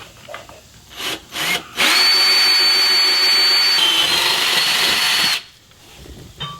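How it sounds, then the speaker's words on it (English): A power drill whirs steadily for a few seconds at close range, drilling pilot holes for a transfer case skid plate, preceded by brief handling knocks and followed by quiet. "I'm going to drill some pilot holes starting right here."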